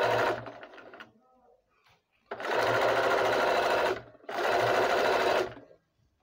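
Sewing machine stitching a cowl sleeve seam, a fast close mechanical whir in three bursts with short pauses between, the last two longer and steady.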